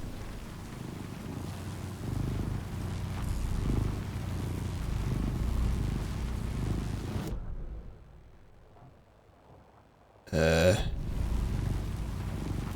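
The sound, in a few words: video game generators purring like cats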